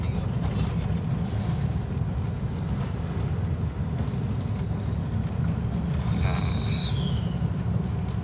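A 2009 Daihatsu Terios engine drones steadily at low revs while driving around 30 km/h in fifth gear, heard from inside the cabin as a continuous low rumble with road noise.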